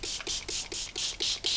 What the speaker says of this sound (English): Okay, spray bottle.